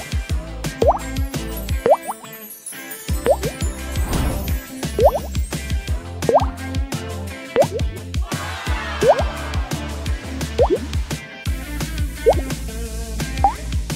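Liquid falling drop by drop from a pipette for a drawing trick, a rapid steady series of close, clear plops and drips with a soft musical backing.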